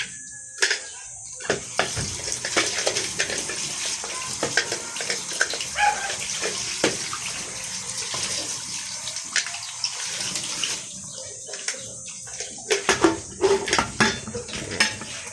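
A pot lid is washed under a running tap, with steady water rushing and repeated clanks and rattles of metal cookware, close by in a home kitchen.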